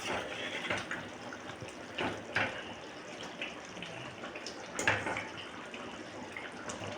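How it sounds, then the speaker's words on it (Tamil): Tamil kara kuzhambu curry with drumstick and brinjal bubbling in a pot, a soft, steady simmering hiss with faint gurgles and occasional small pops. "இப்போ நம்ம குழம்பு கொதிச்சிருச்சு"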